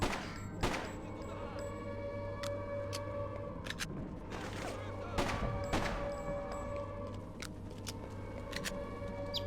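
Gunfire in the PC game Freedom Fighters: scattered sharp shots and short bursts crack out over a constant low hum, some louder and closer than others, with no talk.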